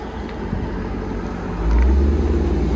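A 2022 Dodge Durango SRT with a 6.4L HEMI V8 and Borla ATAK cat-back exhaust rumbles deep and close, swelling into a louder low growl as it revs partway through.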